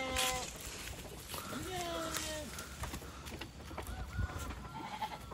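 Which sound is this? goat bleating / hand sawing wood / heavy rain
goat bleating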